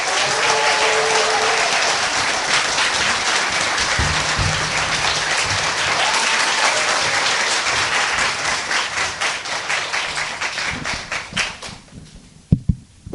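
An audience at a public broadcast event in Busan applauds to welcome a guest professor from Dong-A University, loud sustained clapping that thins into a few scattered claps before stopping.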